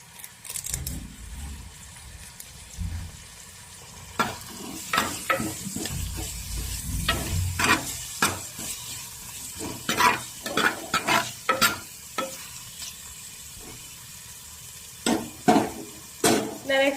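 Onion, green chili, grated ginger and curry leaves fry in a pan for a sardine curry, a soft sizzle broken by repeated sharp scrapes and clacks of a spoon stirring against the metal.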